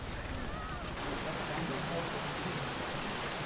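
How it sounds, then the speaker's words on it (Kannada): A small waterfall swollen by heavy rain on a forest trek produces a constant, dense rushing roar with no breaks, fairly close. "ಸಣ್ಣ ಜಲಪಾತ."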